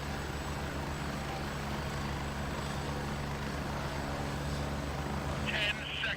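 Helicopter in the military shooter Gray Zone Warfare, a steady low rotor and engine drone throbbing continuously at close range, with a brief voice over it near the end.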